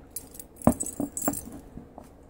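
Keys jangling on a keychain, a few quiet, close metallic clinks in short bursts.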